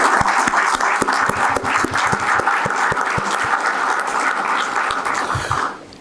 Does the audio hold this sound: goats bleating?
no